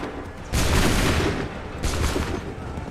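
Two crashing musket volleys in an Assassin's Creed III battle, each a loud broad burst of many guns firing together, the second following about a second after the first fades.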